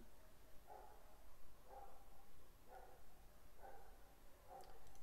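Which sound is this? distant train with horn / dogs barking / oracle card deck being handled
dogs barking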